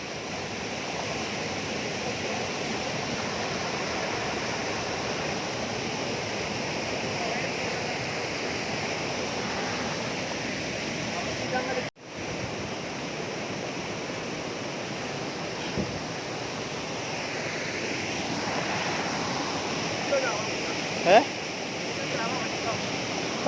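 A waterfall on the Ovally Chundy river in the Nilgiris roars in a steady, dense rush that runs unbroken for the whole stretch, with only a few faint knocks and brief sounds breaking through.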